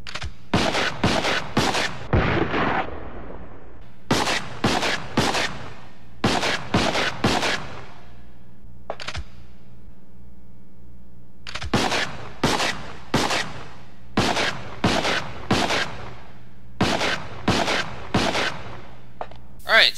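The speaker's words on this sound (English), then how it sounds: "So it fires exactly like a handgun, and you can even do the pot shot maneuver with it as well" Nail gun firing repeatedly in the video game Resident Evil Outbreak, sharp loud shots in rapid rhythmic bursts with short pauses between volleys, one heavier boom among them.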